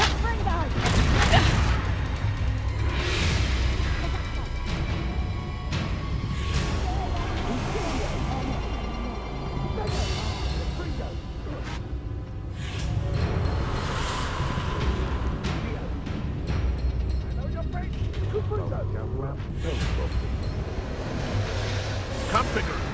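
Confringo blasting spells go off in Hogwarts Legacy combat, a series of loud bursts and whooshes spread over a rumbling, noisy backdrop, with voices shouting spell names between the blasts.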